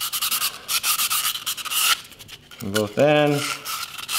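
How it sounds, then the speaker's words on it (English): Sandpaper rubs in quick repeated strokes across a carbon composite blade being prepped for a patch repair, a dry rasping scrape close by for about two seconds, followed by a short burst of speech. "You wanna sand inside of this"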